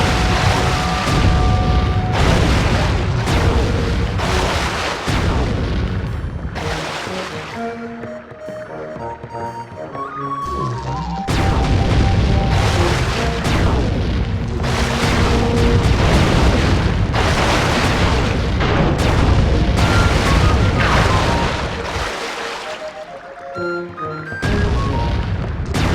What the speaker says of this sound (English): Murray rows and Sly mans the cannon